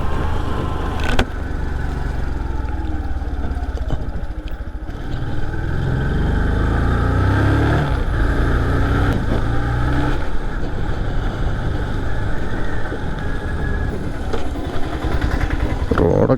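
A motorcycle on a weekend ride along rough roads toward a dam in Palakkad rumbles loudly and continuously, its engine and wind noise close throughout, with a voice talking faintly over it.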